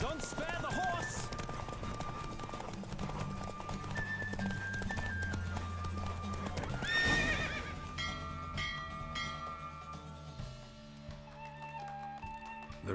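Horse galloping in a Witcher 3 race, with steady hoofbeats under a dense game soundtrack and ambient noise, a horse whinny standing out among rushing sound throughout.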